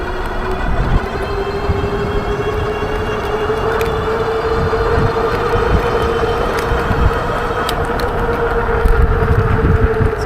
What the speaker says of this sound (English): Ooh, the wind blowing me around.